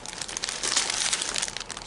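Plastic packaging around a large plush pillow crinkles loudly and close up as it is handled, a continuous rustling crackle with no voices over it.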